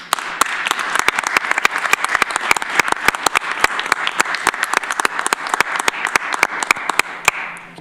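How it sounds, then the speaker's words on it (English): Applause from the audience at a Tompkins County Legislature meeting, dense steady clapping with sharp individual claps standing out, close and fairly loud, sustained for several seconds with no talking over it. "you deserve an applause for that wonderful statement tonight"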